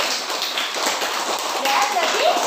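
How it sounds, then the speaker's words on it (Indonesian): A classroom of students claps for a classmate, a dense, steady patter of applause lasting a couple of seconds, close and fairly loud. "Itu tepuk tangan untuk Caca."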